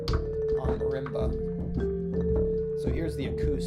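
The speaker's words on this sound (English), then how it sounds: "That sound you're hearing is bass bow" A marimba bowed with a bass bow gives sustained, humming tones within a swing shuffle groove, sounding alongside other instruments and a fat bass line at moderate level, with a voice talking over it at times.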